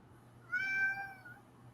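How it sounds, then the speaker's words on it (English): A Siamese cat gives a single drawn-out meow, rising and then falling, faint and alone against a quiet indoor background. "Yes, that is the cat. That is the cat."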